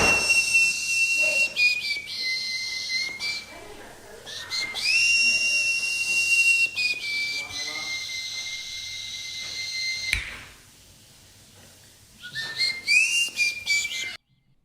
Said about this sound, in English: that's also me whistling with my teeth